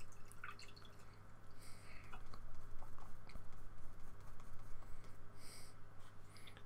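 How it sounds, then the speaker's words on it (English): Paintbrush swished and dabbed in a water pot while painting a winter sunset, with soft irregular drips and patters over a steady low hum, close and fairly quiet. "Let's wash my brush a little bit."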